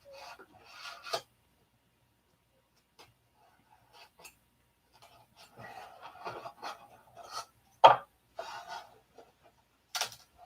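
Hand sanding of wood, heard as scattered soft rasping strokes in short bursts with quiet gaps between, fairly faint and close, with no talking.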